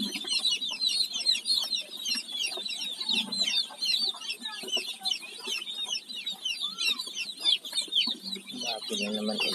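Chickens and small chicks cluck and cheep in a rural backyard flock, a dense, continuous chorus of high peeping with lower clucks scattered throughout, fairly close and steady.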